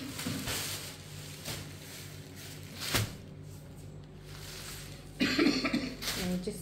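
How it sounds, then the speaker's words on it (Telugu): A woman coughs several times in a short run at a saree clearance sale, with broadband bursts standing out from faint room noise and a louder cluster near the end. "నాకు దగ్గు వచ్చేస్తా ఉంది."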